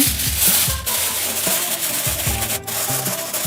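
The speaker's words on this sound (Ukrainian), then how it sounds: "Накриваємо форму фольгою." Crinkly rustling and rubbing of aluminum foil being pressed and smoothed over a baking dish, continuous and close, with a few sharper crackles.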